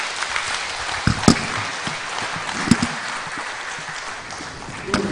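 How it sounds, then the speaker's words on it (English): A seated audience at a book launch for a Ghanaian autobiography applauds steadily for about five seconds: a dense, even wash of clapping with a few sharper, louder claps standing out. No one speaks over it. "all of us have to give this man one big round of applause"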